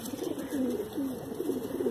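A long-feathered Mangalagiri pigeon cooing up close, a low steady rolling coo that swells and repeats without pause over a couple of seconds.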